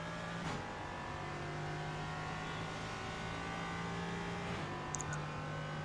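Ligier JS P320 LMP3 race car engine in iRacing at Oschersleben, a steady droning hum holding a constant pitch at moderate distance with brief shifts, under quiet background.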